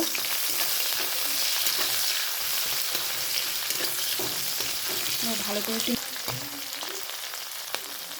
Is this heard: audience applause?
no